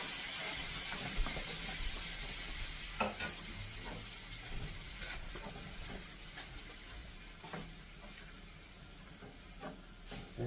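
Taco casserole filling mixed with water in a hot pan, a constant sizzling hiss with occasional scraping stirs and light knocks of the utensil, close and fairly loud.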